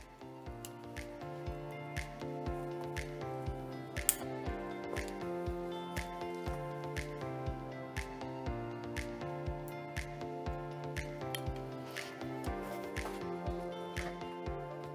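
Scissors snip steadily through layers of fine hair, quick crisp cuts repeating in a regular rhythm close to the ear, with a faint tonal hum running underneath throughout.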